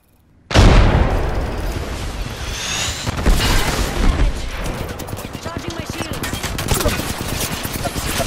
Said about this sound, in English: Grenade, watch it.